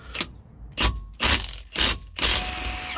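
A Milwaukee 2767 impact wrench hammering at a 525 ft-lb Rolls Royce nut, five loud, close bursts of rapid rattling impacts separated by short pauses, no talk.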